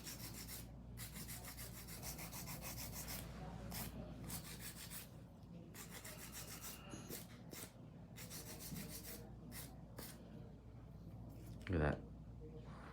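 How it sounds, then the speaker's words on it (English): A hand file is rubbed back and forth across an acrylic nail in repeated short rasping strokes, close and fairly quiet, with a brief louder scrape near the end. "Do a quick hand file."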